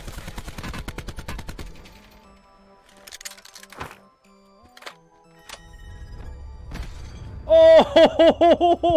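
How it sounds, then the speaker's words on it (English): Gunfire in the video game Black Ops 4 Blackout: a rapid burst of shots at the start, scattered single shots and impacts, then a loud, rhythmic string of shots near the end. "Where are you shooting at me from?"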